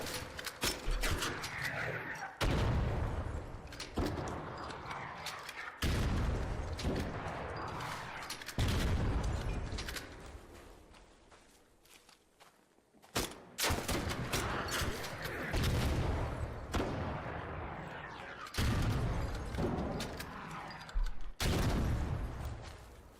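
Rockets and gunfire hammer the Bombardier in ARC Raiders: repeated loud bursts of blasts and shots in close succession, with a brief lull midway before the barrage resumes.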